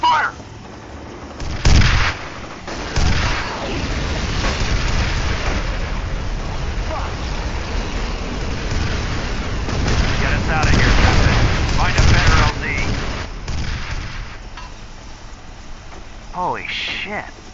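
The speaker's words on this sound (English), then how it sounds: "Taking fire!" Gunfire and booming explosions in the shooter F.E.A.R. Perseus Mandate, heavy rumbling blasts and shots rolling continuously in a chaotic firefight, with voices shouting over the din.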